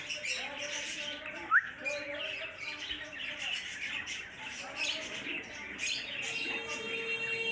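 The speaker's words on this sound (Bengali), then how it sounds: "এটা হচ্ছে আমার ঘরের সবচেয়ে পুরাতন কবুতর।" Chinese pigeons in a home loft make a busy mix of squawks, chirps and cooing, with one sharp call near the start and constant rustling and movement.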